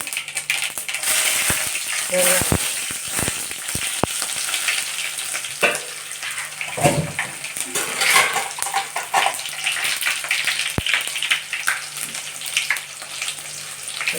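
Mustard seeds and dried red chillies frying in hot oil for a Tamil pepper rasam, a steady loud sizzle with scattered crackles and pops, occasional stirring clatter, no talk.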